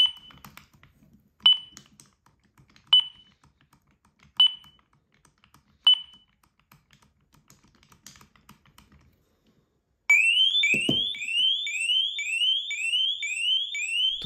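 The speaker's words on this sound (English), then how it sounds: "it warns about it with few loud beeps, and after couple of seconds it starts making noise and it's really loud" An ABUS Bordo 6500 A folding bicycle lock alarm gives five short, spaced warning beeps, then after a pause breaks into a loud continuous warbling siren-like shriek, close up and with no talk.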